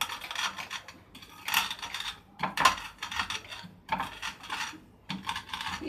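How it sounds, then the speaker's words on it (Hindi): Cooled roasted spices for a jaljeera masala being ground by hand, heard as repeated short scraping and rubbing bursts in an uneven rhythm, close up and fairly quiet with brief pauses between strokes. "अब ये ठंडा हो चुकी है, हम इसे इस तरह से इसे पीस लेंगे।"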